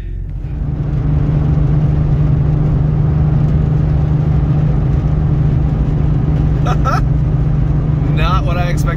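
Steady rumbling road noise and engine drone inside a car driving on a salted road in bad weather, constant and close, with people briefly talking and laughing near the end.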